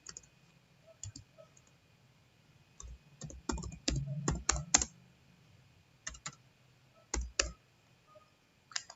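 Bursts of computer keyboard typing while entering labels in an Excel spreadsheet, close and moderately loud, in quick clusters separated by pauses, with a faint steady hum in the background.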